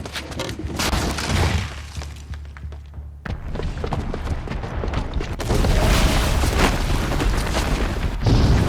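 A booby-trapped bomb detonates in a video game: heavy booms and thuds with shattering debris, then a sustained, rumbling roar of destruction that swells louder in the later part.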